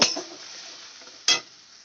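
A soaked spice paste is stir-fried in a pan, with a sharp sizzle at the start and a second sizzling burst partway through, then a fading hiss between them.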